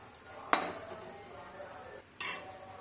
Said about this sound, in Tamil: தயிர் ஊற்றி கொஞ்சம் கிளறி விட்டுக்கலாம்.